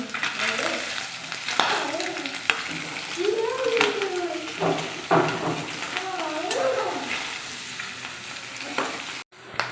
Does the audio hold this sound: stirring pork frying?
yes